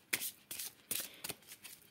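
Tarot cards being shuffled for a love reading, several quick riffling bursts in an irregular rhythm, close and crisp with short gaps between.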